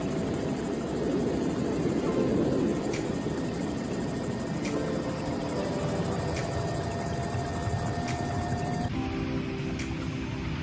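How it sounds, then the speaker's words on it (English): A helicopter rotor and engine roar steadily and loudly throughout, with faint repeated clicks and a tonal hum. "This helicopter pilot has some incredible aim"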